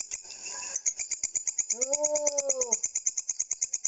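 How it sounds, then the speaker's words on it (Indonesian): A grasshopper chirps in a fast, steady train of sharp pulses running throughout, joined midway by a warbling, tonal animal call over a faint hiss. "Belalang ya."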